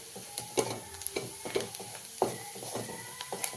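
Onion and homemade red chili powder fry softly in a pan while a spoon stirs them, giving scraping knocks at an irregular rhythm over a faint, steady sizzle, close and fairly quiet.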